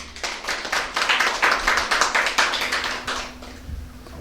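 A group of people clap their hands together in a steady, rhythmic burst of crisp claps that lasts several seconds before tapering off, loud and close.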